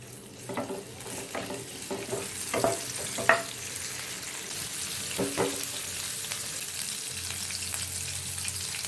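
A bay leaf and green chillies frying in oil for a chicken curry gravy: a steady, close hiss of sizzling oil with scattered pops and crackles and a few light stirring taps, no voices.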